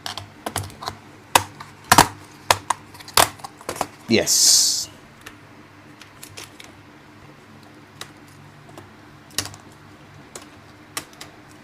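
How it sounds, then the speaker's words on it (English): A keyboard is pried out of an HP EliteBook 840 G5 laptop, giving sharp plastic clicks and snaps at irregular intervals and a short scraping rustle, close up, with someone briefly speaking. "I should be able to remove the keyboard now."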